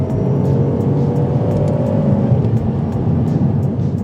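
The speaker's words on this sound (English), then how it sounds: "The engine sounds fantastic." A 2009 Alfa Romeo 159 JTS engine runs loud and close, with a steady, smooth hum and a faint whine that holds at an even pitch throughout and has no voices over it.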